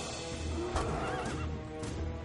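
A horse neighs in the fantasy strategy game Disciples III Renaissance, a loud, wavering whinny rising and falling over a dense game soundscape with faint hoof clopping beneath.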